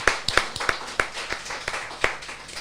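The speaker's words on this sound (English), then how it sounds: "you two guys need a round of applause anyway for" Sparse clapping from a small group at a live charity stream event, about a dozen distinct claps spread unevenly, fairly close and moderately loud, with no talking over it.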